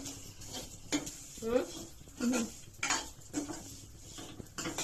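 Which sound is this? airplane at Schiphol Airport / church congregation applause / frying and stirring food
frying and stirring food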